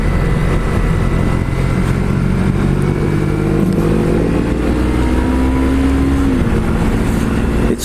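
A 2018 Yamaha MT03 motorcycle on a test ride, its engine droning loud and steady throughout, pitch rising then dropping as the rider shifts, with road and wind rumble underneath and no voices.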